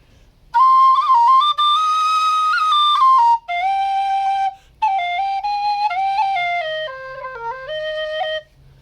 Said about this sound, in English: It's like this is a high whistle.